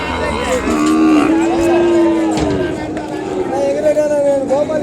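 Calves at the Kodad cattle market give long, drawn-out moos, one after another, close and loud, over a steady crowd murmur with voices talking nearby.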